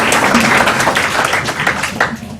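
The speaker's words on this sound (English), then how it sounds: "Let's give them a big round of applause." Loud, dense applause from an audience at a school board meeting, a brief steady burst of many hands clapping together.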